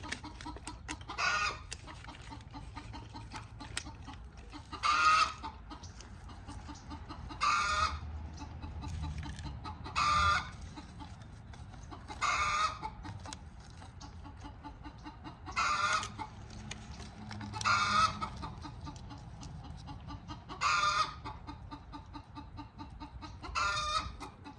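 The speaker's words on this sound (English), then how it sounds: "Chicken just laid an egg." Hens clucking repeatedly after one has laid an egg, loud bursts of cackling recurring every few seconds in an outdoor garden setting, with no talk.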